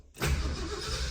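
A 1968 Ford F250 truck engine, being choked, cranks briefly and catches into a rough, loud running roar, all within about a second, with no talking.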